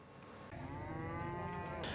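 Cattle at a livestock market in Moneng, Madiun, East Java, during a veterinary inspection: a loud, sustained low moo begins about halfway through and carries to the end over steady market background noise.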